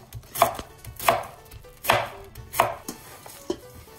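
A knife slicing through a head of green cabbage on a cutting board, giving five crisp, evenly spaced crunching chops with quiet pauses between, close and alone.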